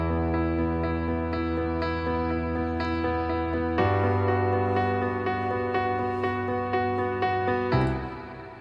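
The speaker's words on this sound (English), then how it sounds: "the piano sounds like this with OTT, some reverb, some EQ for highs" A Grandeur piano in Kontakt, processed with OTT compression, reverb and EQ brightening the highs, plays sustained, heavily squashed chords that change twice, with a bright, dense, wash-like tone and no talking.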